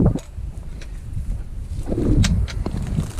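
Steady wind at an outdoor shooting range rushes and buffets across the microphone as low broadband noise, swelling toward the end, with a few faint chirps overhead.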